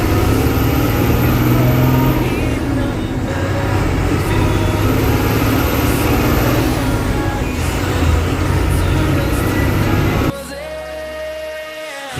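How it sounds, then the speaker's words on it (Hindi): Loud, continuous road roar of a loaded diesel truck's tires and engine, steady and close, dropping suddenly near the end. "लोड गाड़ी के टायर कैसे आवाज करने लगते हैं ना।"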